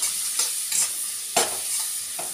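A spoon stirs an egg mixture with turmeric and cumin in a hot pan, making a few distinct scraping strokes over a continuous frying sizzle.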